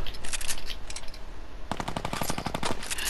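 Rapid automatic gunfire from a new weapon in Fortnite, a fast burst of evenly spaced shots starting partway through over continuous game background noise, after a quieter stretch of distant firing.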